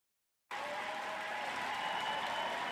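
A round-of-applause sound effect cuts in abruptly after half a second of silence, dense steady clapping that holds at an even level to the end.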